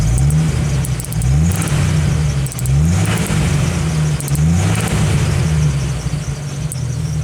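Jeep Wrangler YJ engine revved by hand throttle control, rising and falling in repeated pulses, loud and close, a steady mid-pitched roar without talk.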